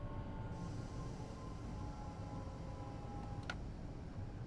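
Steady low rumble of a train running in Train Sim World 6, a continuous rolling drone with a faint whine, quiet and even throughout, with a couple of light clicks near the end.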